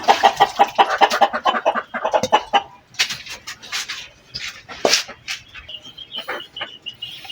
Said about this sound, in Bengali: খাবারটা দেখে আমার মুরগিগুলা খাবার জন্য উতলা হয়ে গেছে।